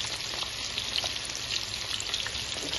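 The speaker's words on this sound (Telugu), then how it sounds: "తక్కువ ఆయిల్లో నీట్ గా ఫ్రై అవుతుంది" Burka fish frying in a little oil, a steady dense sizzle with fine crackling pops that stays even and close for the whole stretch, with no voices.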